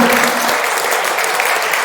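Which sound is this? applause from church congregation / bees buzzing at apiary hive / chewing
applause from church congregation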